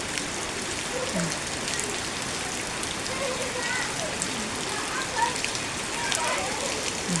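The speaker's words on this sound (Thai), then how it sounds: "ฝนตกก็หยุดนักเรียนที่ประเทศลาวบ่ได้เด้อพี่น้อง" Heavy rain pours steadily in Laos as schoolchildren set off for school, a dense, even hiss of falling water that never lets up, with faint voices mixed in underneath.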